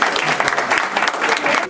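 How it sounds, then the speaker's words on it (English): A room full of people claps for the participants of a mock trial session, a lively round of applause with uneven, bright hand claps rising and falling over just under two seconds. "Big round of applause for everybody"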